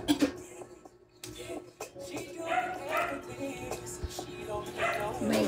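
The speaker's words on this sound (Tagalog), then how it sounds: "Tapos ang daming aso dito." Dogs bark and yip in bursts, somewhat distant, mixed with background voices and household noise.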